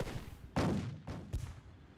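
Tank and gun fire in Theatre of War 2 at the Battle of Cheux: three distant heavy booms with rumbling tails, the first loudest, spaced about half a second apart over low background noise.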